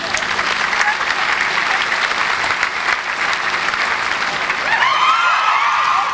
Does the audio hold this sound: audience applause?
yes